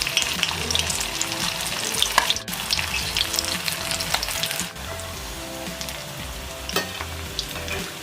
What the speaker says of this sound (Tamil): இப்போ நம்மளுக்கு டீப் ஃப்ரை பண்ணதுக்கு ஆயில் ஹீட் பண்ணி வச்சுருக்கேன்